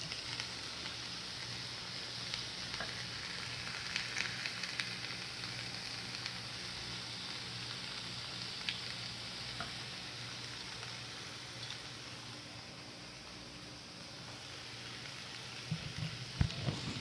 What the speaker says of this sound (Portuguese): Eu aqui no centro agora eu vou colocar o alho.